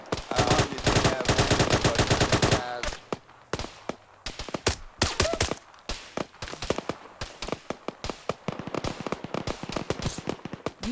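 Loud gunfire fills a military video game, opening with a dense burst of rapid automatic fire and then breaking into scattered, sharp single shots and short volleys for the rest of the scene.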